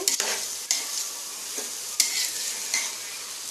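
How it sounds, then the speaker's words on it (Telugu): Rice stirred through hot oil in a home kitchen pan while making chicken pulao, a steady close sizzle broken by a few scraping stirs of the spoon, with no voices. "ఆయిల్లో కొంచెం లైట్గా చిన్న ఫ్రై అయితే బాగుంటుందండి"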